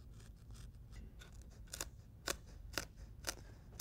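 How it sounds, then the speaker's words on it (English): Scissors snip through scrap headliner material from a 1999 GMC truck, a series of crisp, close cuts falling in a loose rhythm over a low background hum, with no voices. "Take your scrap headliner and cut a piece a little larger than you need."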